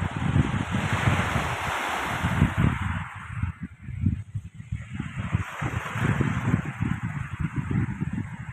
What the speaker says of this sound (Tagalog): Ito kabayan yung dagat dito sa may Biwok.